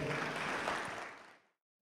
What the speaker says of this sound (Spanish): Le damos por favor un aplauso de bienvenida a la doctora.